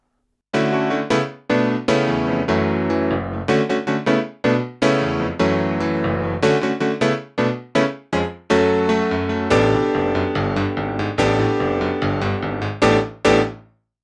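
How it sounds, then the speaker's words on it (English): Electric grand and acoustic grand piano voices layered on a Hammond SK Pro keyboard play a slow sequence of sustained chords, each ringing out before the next, close and full, with no voices. "I like to layer that with the sound of the acoustic grand piano"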